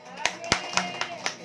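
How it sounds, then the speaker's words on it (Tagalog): Sharp, evenly spaced hand claps from a church congregation, about four per second in a steady rhythm, ring out close and clear over a voice sounding underneath. "Palakpakan natin ang Panginoon."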